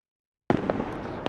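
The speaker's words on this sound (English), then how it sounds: "a rapid burst of fireworks erupts nearby, right in front of you" A rapid burst of fireworks erupts close by after half a second of silence, loud crackling and popping explosions layered densely with a few sharper bangs standing out, continuing without pause to the end.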